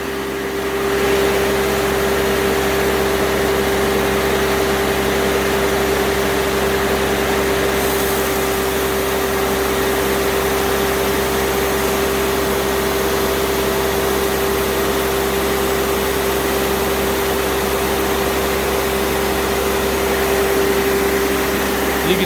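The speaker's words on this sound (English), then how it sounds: "we're gonna go ahead and speed up the engine. So, rabbit speed. Up to 2700 RPM." A Timberking 2220 sawmill engine runs steadily at a high 2700 RPM, a loud constant drone with an unchanging tone and a strong steady hum for over twenty seconds, no talk.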